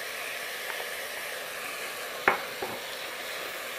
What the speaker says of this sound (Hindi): आप थोड़ा सा सब्जी को सॉफ्ट होने तक फ्राई करूंगी।